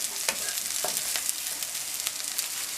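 Food fries in a pan for a bacon and bean sprout stir fry, giving a steady close sizzle broken by occasional sharper pops and light stirring scrapes.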